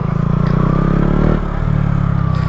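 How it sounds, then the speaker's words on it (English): A 125cc four-stroke motorcycle runs in first gear while pulling a wheelie, a loud, close buzzing engine note that holds steady, dips briefly, then picks up again. "So now I think I'm going to show you how it looks when you're doing a wheelie"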